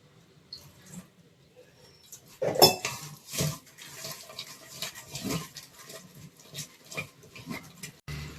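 A spoon scrapes and clinks in a bowl while fish masala paste is mixed with a little oil, lemon juice and water. The scraping is quiet and uneven, with a few sharper knocks, and no one speaks.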